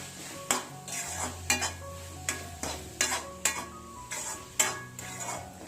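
Bread masala with carrot and capsicum cooking in oil in a pan, with repeated clanking spatula strokes against the metal over a low simmering sizzle, close and rhythmic, no voices.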